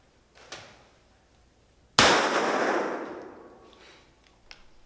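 Single sharp gunshot from a .38 caliber revolver with a 4-inch barrel, fired into a soap target, loud crack followed by a long fading echo, with faint clicks before and after.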